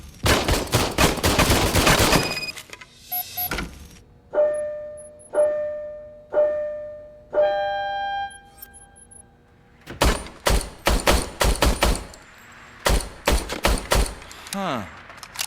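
A service weapon in RoboCop: Rogue City fires a quick burst of loud shots, then several single spaced reports, then another rapid volley, with mechanical clanks between them.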